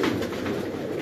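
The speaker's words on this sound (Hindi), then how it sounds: "रामपुरी कबूतर।" Rampuri pigeons coo softly and continuously close by, with a low rolling murmur.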